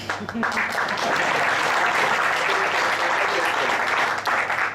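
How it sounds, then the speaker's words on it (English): Steady, dense applause from a conference audience after lunch, sustained at full strength for the whole stretch with a faint hint of voices underneath. "thunderous applause is known to expend at least 10 calories a minute"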